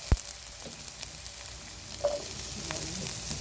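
Onions and ginger frying in a pan, giving a soft, steady sizzle at moderate distance with a few light clinks and stirring scrapes, no talking.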